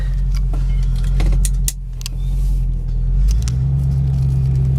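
A convertible car's engine rumbles close by as it pulls away with four-way flashers on, with clicks and rattles over the steady low drone.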